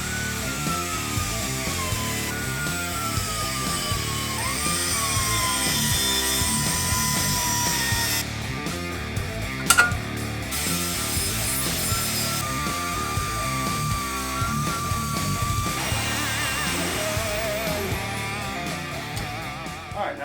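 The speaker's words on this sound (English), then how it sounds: "So now I can go ahead and cut all this out and clean up this collector so that we can reuse it" A power cutting tool grinds through a steel exhaust header collector for a Chrysler Conquest custom equal-length header build, giving a continuous loud whine that shifts in pitch, with a brief metallic clank partway through.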